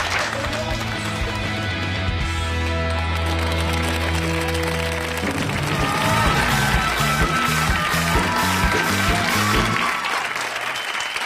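An audience clapping, a dense sustained round of applause mixed with music and tonal backing, continuous and moderately loud throughout.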